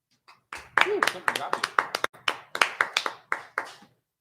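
Applause from a live radio show broadcast, heard as a burst of quick, fairly close hand claps in an uneven rhythm, with people talking over the clapping.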